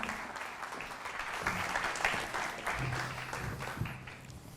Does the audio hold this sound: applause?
yes